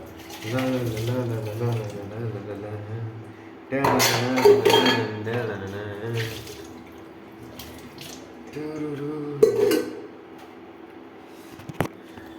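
Dishes, pots and pans being washed under a running tap, with clinks and clatter of utensils against water flow, while a person talks and hums nearby throughout.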